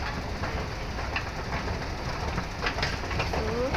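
A train running at a Hong Kong MTR station between Mei Foo and Sham Shui Po, a continuous rumbling rush of wheels and motors with faint squeals and clatter, steady and fairly close.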